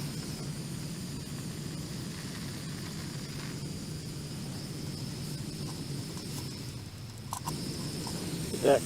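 A gas camp stove burns on a winter hike with a faint, steady, even roaring hiss that holds without a break throughout.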